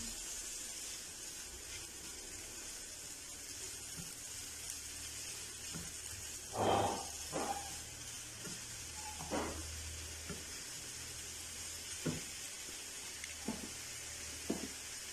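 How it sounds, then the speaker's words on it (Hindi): Sugar sautéing in butter in a pan until it melts and caramelizes, a steady soft sizzle and hiss with a few faint stirring scrapes, no talking. "यहाँ चीनी के कैरामलाइज होने तक, थोड़ी सी मेल्ट होने तक भी हमने इसे सौते करना है"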